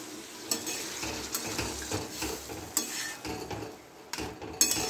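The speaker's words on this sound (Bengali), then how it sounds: "এবার আমি এখানে জল দিয়ে দেবো, জল দিয়ে দিচ্ছি।" Soybean curry cooking in hot oil in a pan, with water just poured in, sizzling and stirred, scraped spoon clinks and scrapes recurring irregularly over a steady close fry hiss.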